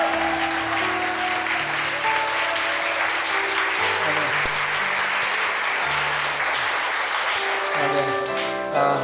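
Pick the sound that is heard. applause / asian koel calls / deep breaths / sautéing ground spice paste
applause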